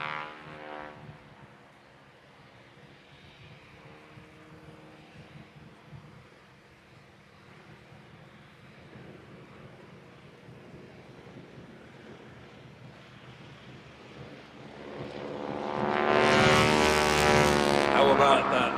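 A propeller aircraft such as a Stearman or Harvard taking off at an air show, its propeller tips going supersonic, builds from a low distant drone into a loud, harsh, rasping roar near the end, with commentary over it.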